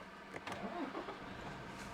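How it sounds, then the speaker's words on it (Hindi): A Toyota Fortuner's engine starts from its push-button start-stop system: a quick cranking catch, then a quiet, smooth idle hum, faint and heard from inside the cabin. "स्टार्ट स्टॉप बटन इल्यूमिनेटेड है, और गाड़ी को कर लेते हैं स्टार्ट।"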